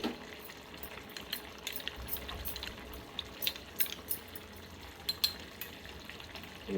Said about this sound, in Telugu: కొంచెం వాటర్ పోసుకుందాం.